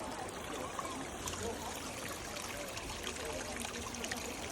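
Natural hot spring water pouring into a hot tub near the Kern River, a steady faint trickling and splashing stream that continues evenly without a break.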